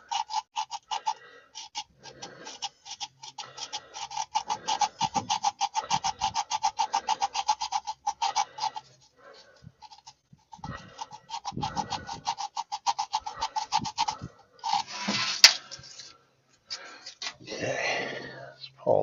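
Emery cloth rubs back and forth over corroded ignition contacts in a 1953 Chevy truck engine, a close, rhythmic rasping in steady strokes that pauses and restarts.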